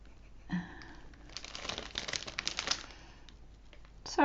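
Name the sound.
crinkling of paper or packaging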